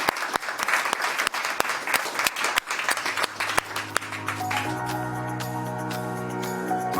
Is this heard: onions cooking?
no